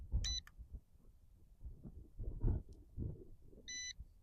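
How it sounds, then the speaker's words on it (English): GPS camera drone, a V918 with 8K camera, emitting short electronic beeps during compass calibration, with a brief double beep near the start and another at the end over low handling noise. "And then you wait for that beep."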